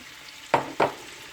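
Peas and carrots hit hot butter in a pan for Cantonese fried rice, giving two short, quiet sizzling bursts over a faint background hiss.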